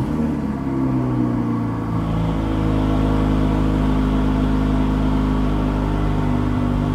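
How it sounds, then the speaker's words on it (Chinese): A 720-horsepower turbocharged Ferrari 488 Pista V8 fires up with a rising burst, then settles into a loud, steady, deep idle rumble that runs up close without pause. "踩刹车摁一下 engine start 钮，你就可以唤醒这台720马力的猛兽。"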